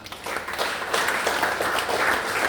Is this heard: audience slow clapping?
yes